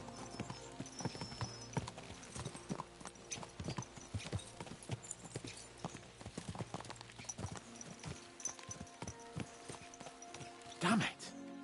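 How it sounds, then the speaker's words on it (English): Horses' hooves clip-clop in the video game Kingdom Come Deliverance 2, a steady run of quick, close hoofbeats over ground with a brief whinny near the end, under a low game soundscape. "Let's really spur these horses on, eh?"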